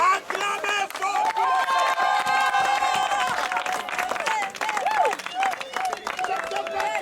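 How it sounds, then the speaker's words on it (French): At a baptism service the congregation cheers and applauds, with raised voices and clapping that form a loud, continuous crowd roar, while a leader's voice is heard within it. "Acclamez fort."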